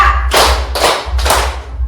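A class claps together in a counted rhythm, with three loud, close, broadband bursts evenly spaced over a steady low hum.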